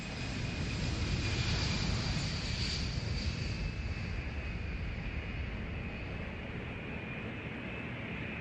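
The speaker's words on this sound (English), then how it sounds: "For years, the North had been creating an air force with Soviet-built jet fighters." Soviet-built jet fighter of the North Vietnamese air force, Vietnam War era, with a steady, loud engine roar and a thin high whine sustained throughout, no voices.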